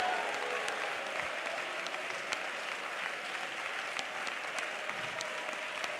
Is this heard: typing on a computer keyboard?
no